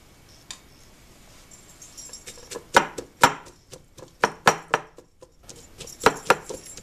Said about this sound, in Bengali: এখন আমি এটা হামানদিস্তায় ছেঁচে নেব।